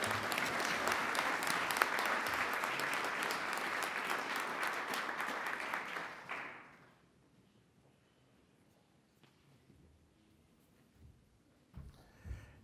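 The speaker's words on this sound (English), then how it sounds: "Let's give a big round of applause for Governor Bill Walker." An audience at an innovators hall of fame induction ceremony applauds Governor Bill Walker with sustained clapping for about six seconds, then it stops abruptly and a quiet room follows with a few faint noises.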